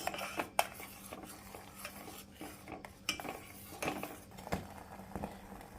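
Spoon stirring milk in a pot after lemon juice is squeezed in, irregular light clinks and scrapes of metal against the vessel, close but fairly quiet.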